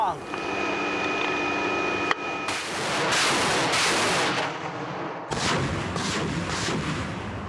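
Two heavy artillery ranging shots boom out, each followed by a long rolling roar that fades slowly, loud and outdoors.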